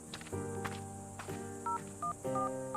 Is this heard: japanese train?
no